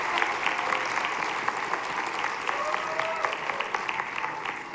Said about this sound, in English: They need another huge round of applause for both groups.